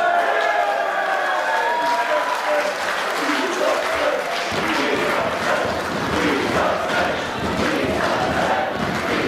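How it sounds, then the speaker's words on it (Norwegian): A live wrestling crowd cheers and claps for wrestler Erik Isaksen, a dense, loud roar of applause and shouting that swells and holds steady, with voices mixed in. "Publikum helt på Isaksen sin side Til med wrestlere på utsiden heier på Isaksen"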